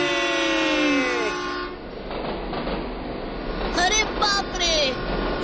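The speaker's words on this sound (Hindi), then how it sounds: "माँ बाबा के बिना हम अकेले रेलगाड़ी में घूमने जा रहे हैं" A cartoon train sounds its horn in a long, sliding toot. Rumbling wagon noise follows, along with a few more short whistle blasts, and a voice talks over part of it.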